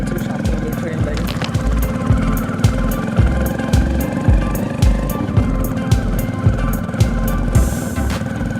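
Motorbike ride along a rural road past mustard fields toward a railway station, a steady close engine drone with rhythmic pulses and wind rush throughout, voices talking faintly over the ride.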